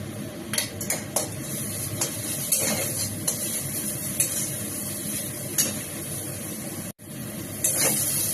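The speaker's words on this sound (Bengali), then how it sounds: "আদা রসুনের পেস্ট দিয়ে দেবো। পেঁয়াজটা ভালো করে ভাজা হয়ে গেছে।" Onions with ginger garlic paste fry in a pan, a steady loud sizzle broken by repeated scrapes and knocks of a spoon stirring against the pan, close up and without speech.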